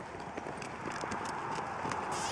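Horse hooves clip-clopping in a brisk, fairly regular rhythm at moderate distance, fading slightly as the animal moves, with no speech over it.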